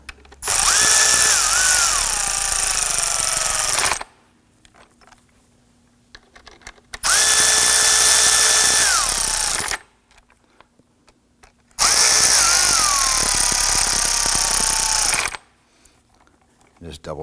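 A cordless drill or impact driver snugs down the intake manifold bolts on a 2015-2020 Ford F-150 2.7L V6, three loud bursts of whirring motor a few seconds each, pitch rising then falling, separated by quiet pauses.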